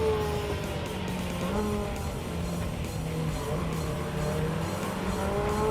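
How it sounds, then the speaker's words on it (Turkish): A 2019 Ferrari F8 Tributo in Gran Turismo 7 revs hard as it accelerates, its engine tone rising and shifting through gears with tire noise, continuous and loud, with someone speaking over it. "Araba çok çabuk hızlanıyor"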